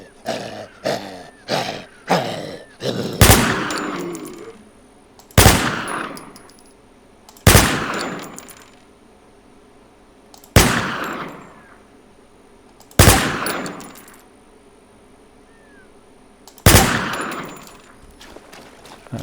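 Gunfire in the zombie game Z Infestation: a quick run of rapid shots, then six loud, well-spaced single blasts, each ringing with a long decaying tail.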